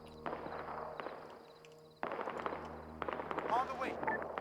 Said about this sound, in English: have you never heard of gunfire before?